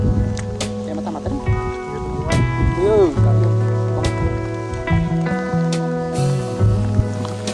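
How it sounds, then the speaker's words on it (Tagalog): Steady rain pours down outdoors on a mountain trail in Igbaras, Iloilo, a dense patter on surfaces mixed with scattered drips and splashes, heard under voices and tonal background sounds. "sinabutan kami ng ulan"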